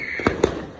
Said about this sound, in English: Yay! New fireworks!